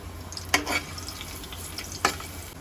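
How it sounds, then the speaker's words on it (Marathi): Garlic fries in hot oil in a pan, a steady low sizzle broken by two sharp stirring scrapes of a spoon against the metal. "तापलं लसूण टाका. लसणाला लालसर कलर येईपर्यंत लसूण हलवून घ्यायचे आपल्याला."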